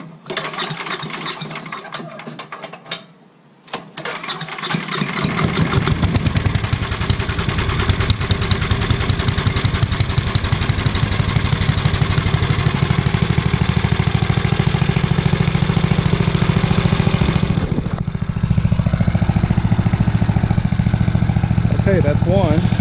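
Gasoline lawn mower engine starting after its carburetor is primed, beginning with pull-cord rattles and sputters and then settling into a loud, steady, close running drone that continues to the end.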